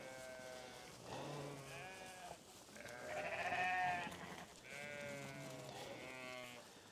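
Sheep bleating on a farm, several drawn-out calls one after another, fairly close and clear with little else around them.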